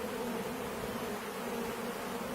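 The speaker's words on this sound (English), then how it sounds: "I've just poured the bucket of bees" Dense, steady buzzing of many honey bees just after a bucket of them has been poured into a hive, close and continuous with no talking.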